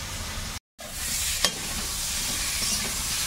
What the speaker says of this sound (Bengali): পেঁপে আর আলুটা ভালো করে ভাজা হয়ে গেছে